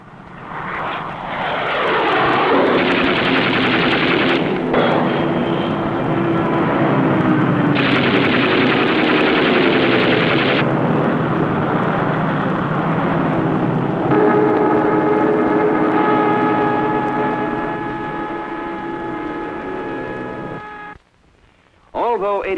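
Fighter aircraft dogfighting in the naval warfare game Sea Power: a loud, sustained drone of aircraft engines with bursts of machine-gun fire, steady throughout before a brief drop near the end.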